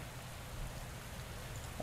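Steady rain hisses quietly and evenly in a cycling video game during a wet descent in the Milan–San Remo race, a faint constant wash with no other sounds.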